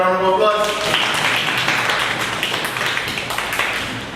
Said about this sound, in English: Just give Mr. Bertel a round of applause